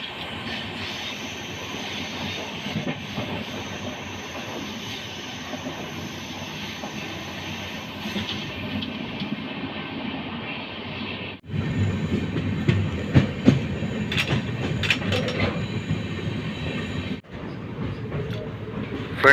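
The Sampark Kranti express runs through a small railway station without stopping, heard from on board as a continuous rumble of wheels on rails that grows louder and harsher midway, with rattling carriage noise and brief sharp drops.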